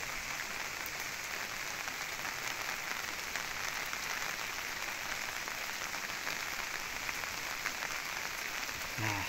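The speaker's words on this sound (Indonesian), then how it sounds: "seperti ini tuh suasana hujan di Pilemburan ya." Rain falls on a village in a continuous, even hiss that stays steady and fairly soft from start to finish, with no voices.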